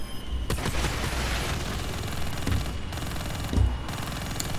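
Heavy gunfire in the video game Call of Duty: Black Ops III, a dense continuous fusillade with sharp bursts and a few deeper booms, loud and sustained throughout.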